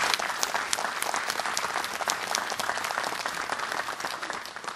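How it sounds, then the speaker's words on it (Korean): Warm applause from the audience at a televised volunteer service awards ceremony, a dense continuous roar of clapping hands at fairly even loudness, filling the hall without any speech over it. "여러분 다시 한번 뜨거운 박수 부탁드립니다"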